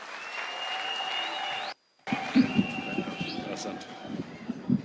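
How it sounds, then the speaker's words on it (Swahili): A large crowd at an open-air political rally in a stadium in Kisii County, Kenya, claps in welcome for a speaker. The clapping comes in dense, irregular bursts after a brief dropout, with a droning tone underneath. "tumukaribishe na makofi tafadhali"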